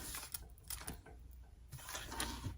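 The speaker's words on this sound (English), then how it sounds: "So the next thing to do is to stitch. I'm going to start my stitching." A sewing machine stitches a strap, running in a quiet, steady mechanical whir with faint rhythmic clatter, close and alone without any talk.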